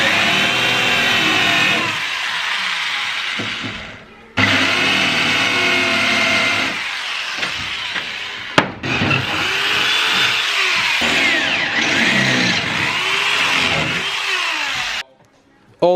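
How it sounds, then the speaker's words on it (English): Power drill boring holes through a car's floor to bolt in a hydraulic suspension spring box, several long loud whining bursts with revving pitch changes, separated by short pauses. "I'm going to drill holes in here and bolt it through the floor"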